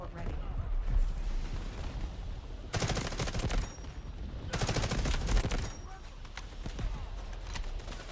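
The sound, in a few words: artillery fire in the video game Delta Force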